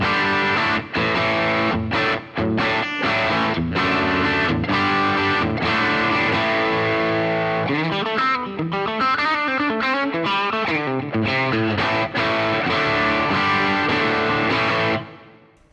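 A Matchless Independence 35 guitar amp on its second channel gives a loud, saturated distorted electric guitar tone, chords and riffs ringing continuously with brief gaps before a final sustained fade.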